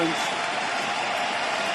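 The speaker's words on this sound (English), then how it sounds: "And it's a standing ovation here for Japan." Crowd giving a standing ovation at a world karate championship team kata final, dense sustained applause filling the hall, loud and even throughout.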